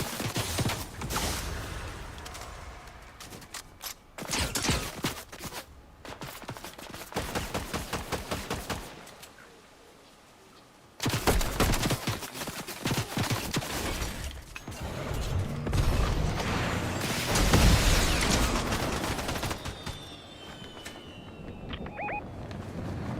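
Bursts of rapid video-game gunfire, loud and close, firing in repeated volleys with a brief lull midway and mechanical clanks between strings of shots.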